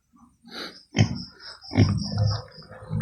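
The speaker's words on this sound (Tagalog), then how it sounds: "Ang baboy." A pig gives several close, loud grunts and snorts in a short irregular series.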